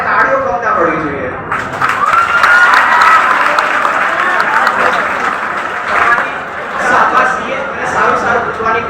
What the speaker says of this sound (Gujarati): મારે તાળીઓ કમ ના પડવી જોઈએ